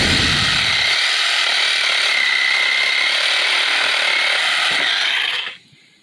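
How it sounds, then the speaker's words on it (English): A battery-powered cordless saw cuts a 45-degree angle through a 1.5 by 1.5 inch wooden baluster, with a loud, steady grinding whine that runs close-up for about five seconds and then stops abruptly. "I'm going to cut a 45 with this battery powered"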